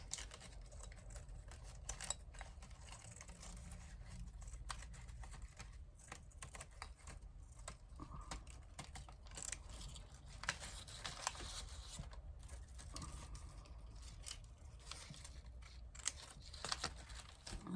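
Paper being cut around an intricate shape with scissors for a trash-art angel piece, a steady stream of soft close snips and crinkles with no talk.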